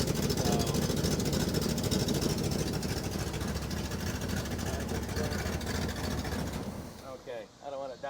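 A 1977 Pontiac Can Am engine idles loudly and roughly through a leaking exhaust with a dense, continuous rumble. Near the end it drops off and a voice is faintly heard.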